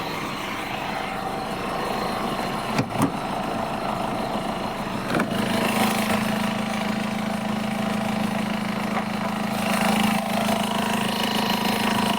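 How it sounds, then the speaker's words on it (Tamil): A Mahindra Xylo SUV engine idling close by, a steady low rumbling hum with a couple of sharp clicks partway through; the tone deepens slightly as it runs. "வைப்ரேஷன் மற்றபடி இன்ஜின் சவுண்டு நல்லா இருக்குங்கண்ணா"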